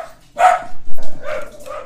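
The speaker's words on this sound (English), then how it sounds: "the dog was barking" A pet dog barking nearby indoors: a couple of sharp, loud barks followed by softer yips, with no talking.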